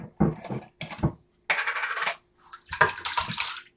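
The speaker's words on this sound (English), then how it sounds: "you're going to take your peaches and you're going to pour them in the bottom of a" Canned peaches and their juice pour into a baking pan in several short bursts, a wet splashing and sloshing with brief clinks, close and loud with pauses between pours.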